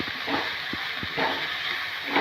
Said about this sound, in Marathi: मसाल्यामध्ये मेथी परतून घ्यायची